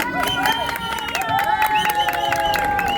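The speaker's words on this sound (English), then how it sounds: "and the kids, they get a big round of applause" Crowd at a bathtub regatta on the Sado River in Portugal claps and cheers for children taking part, a busy mix of applause, shouts and lively babble with bright tonal sounds running through it.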